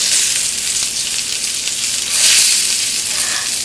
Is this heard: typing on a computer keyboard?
no